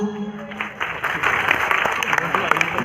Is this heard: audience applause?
yes